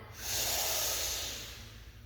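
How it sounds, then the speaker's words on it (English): A single slow Ujjayi breath during a yoga session: a long, soft, throaty hiss that swells and then fades, close and quiet, with no talking over it. "You can practice your Ujjayi breathing"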